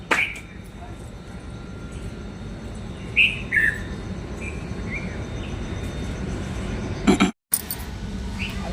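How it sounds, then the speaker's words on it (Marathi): In calm morning outdoor air, a few short bird chirps and tweets ring out at moderate distance, scattered over a soft steady background hum. "सकाळचं वातावरण किती शांत मस्त आहे बघू शकता तुम्ही आणि सगळ्या पक्ष्यांचा किलबिलाट"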